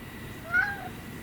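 A cat gives a single short, fairly faint meow in a quiet indoor room, with no talking over it.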